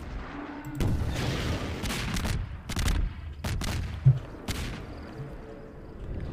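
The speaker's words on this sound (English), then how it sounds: "God, the explosion effects are wonderful." Gunfire and explosions from the Garry's Mod Half-Life 2 mod The Closure: several loud, sharp bursts and booming blasts in quick succession, with rumbling decay between them and a short crack near the end.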